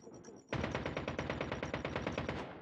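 Oden rifle in Call of Duty Mobile opening up after a brief quiet start: a steady, rapid burst of about twenty loud, evenly spaced gunshots running without a break to the end.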